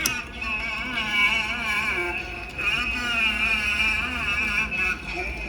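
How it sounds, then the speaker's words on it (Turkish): A homemade USB record turntable's motor gives off a faint, wavering electric whine whose pitch wobbles as it slows, with low rumbling background noise. "Yavaşlıyor arkadaş motor."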